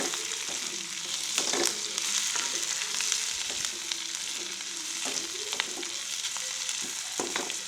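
Chilies for a squid sambal sizzle steadily in a hot pan, with a bright constant frying hiss and repeated scraping knocks of a spatula stirring them.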